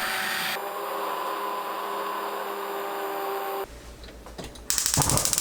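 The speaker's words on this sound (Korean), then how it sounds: "팥을 곱게 갈아주세요." A loud, steady motorized whirring of a blender grinding cooked red beans continues for several seconds, then cuts off, followed by brief clattering and shuffling noises.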